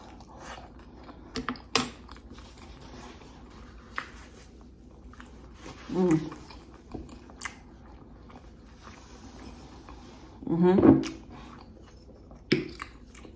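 Chili cheese fries being eaten up close, with a few distinct biting and chewing bursts and soft mouth noises spread across a quiet stretch with no talking.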